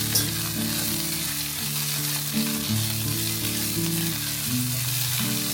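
Chili bean sauce poured over high heat boils and simmers in a pan with a steady, close sizzling bubble, while soft background music plays with stepped tones underneath throughout.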